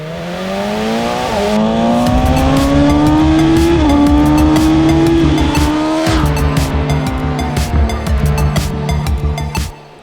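A high-revving BMW M 1000 R sport motorcycle engine climbs through the gears, then rattles and crackles at steady high revs, loud and close.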